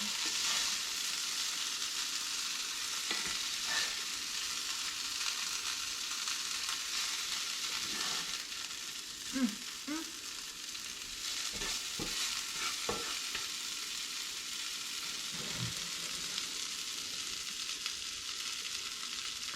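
Kingfish mackerel frying in butter under a loose-fitting lid: a continuous, even sizzle held close throughout, broken by occasional soft clicks and knocks of the lid and pan.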